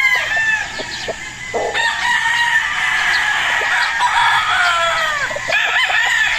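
Gilmore gamecock rooster crowing at a gamefowl farm, with several birds crowing in overlapping calls, some close and loud, others farther off, against a steady outdoor background.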